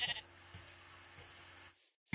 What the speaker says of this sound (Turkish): Koyuncuk.